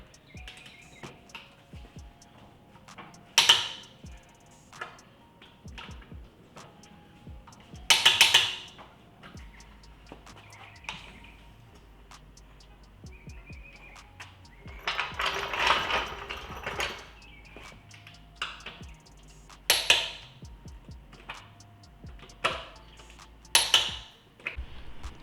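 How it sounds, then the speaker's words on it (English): Sharp, separate clicks from a torque wrench set to spec as it tightens the wheel lug nuts on a widebody Dodge Charger Scat Pack, heard as a few close bursts spaced apart over quiet background noise. "got my torque wrench set to spec, and so just gonna make sure I am all good"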